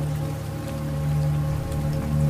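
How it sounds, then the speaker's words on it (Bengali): Steady, dense rain hisses continuously, with a constant low hum underneath and no voices. "ঝমঝমিয়ে বৃষ্টি তখনও চলছে"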